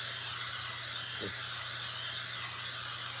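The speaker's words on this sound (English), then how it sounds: "I'm going to spray a little in the bottom of this" Steady broadband hiss of cooking spray sprayed continuously into a baking dish, fairly close, with a faint low hum underneath.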